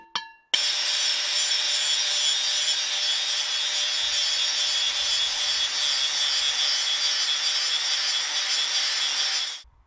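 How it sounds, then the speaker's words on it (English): An angle grinder cleans down a tube cutting jig made from leftover metal, running as a loud, steady high-pitched grinding whine for about nine seconds before it cuts off, with no talking. "I've got to remove the slack and clean it with an angle grinder."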